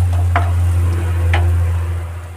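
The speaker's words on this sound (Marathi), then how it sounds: "2 ते 3 मिनिट कांदा फ्राय करून घेऊया" Onion frying in a pan with a pinch of salt, a soft sizzle sitting under a loud steady low hum, with two brief scraping stirs.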